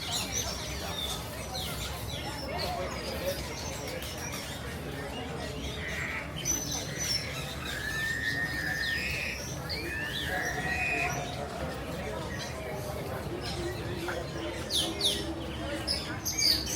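Birds chirp and tweet inside an aviary, scattered bright calls and short trills rising and falling over a busy background, with people talking faintly at times.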